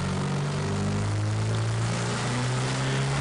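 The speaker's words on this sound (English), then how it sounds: "With the spring pressure setting at its lowest value, the turbo spool up is a bit laggy." Turbocharged engine under an AEM Tru-Boost gauge-type boost controller set to its lowest spring pressure, spooling up with some lag: a steady, loud low engine drone with rising harmonic tones held throughout, no voices.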